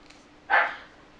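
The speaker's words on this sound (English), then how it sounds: "my dog barking again" A dog lets out a single short bark at a moderate distance in a quiet indoor room during a crochet tutorial, with no voices over it.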